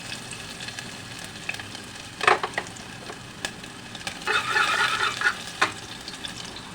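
Chopped ginger and garlic hitting hot oil in a pan, a low background sizzle that flares into louder bursts of crackling and spattering, with sharp utensil taps against the pan.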